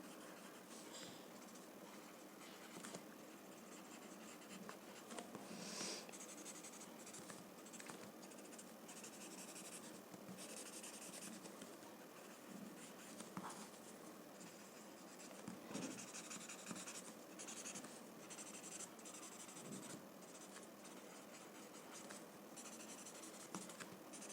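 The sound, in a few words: blending graphite drawing on paper with blending stump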